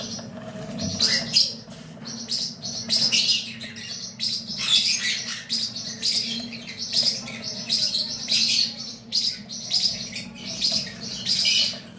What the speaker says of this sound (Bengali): এটাকে বলা হয় ব্রাউন থ্রোটেড কুনুর